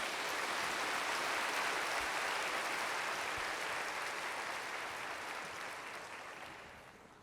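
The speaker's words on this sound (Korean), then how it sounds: "메시지 전할 때 함께 박수로 맞이하도록 하겠습니다." A church congregation at a Sunday worship service applauds to welcome a guest pastor, a dense, steady wash of clapping from a large crowd that slowly fades toward the end, with no talk over it.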